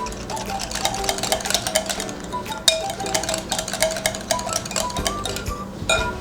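Caesar salad dressing ingredients stirred in a bowl, with a utensil clinking and scraping against the sides in a quick, uneven rhythm throughout, close and clear, with a sharper knock near the middle and no voices.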